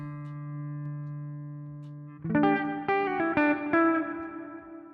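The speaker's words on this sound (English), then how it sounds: "So this is the lowest quality reverb we can do right now." An effects unit set to its lowest-quality reverb: a steady sustained tone, then a few struck notes whose tails smear into a grainy, washy reverb, fairly quiet and with no voices.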